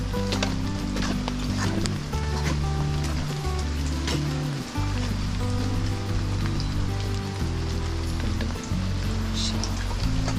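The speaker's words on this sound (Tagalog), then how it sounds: "Ulan." Steady rain falling and pattering on surfaces outdoors, a dense continuous hiss with a low engine-like drone underneath, no talk.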